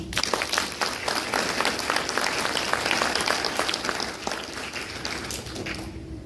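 Dense, steady audience applause at an Army Transportation Corps class graduation ceremony, many hands clapping at once in a sustained wash that thins slightly toward the end.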